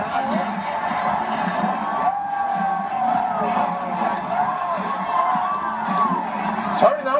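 A stadium crowd at a Michigan college football game cheers and murmurs steadily while a fraternity dances, with a voice talking clearly over the continuous roar.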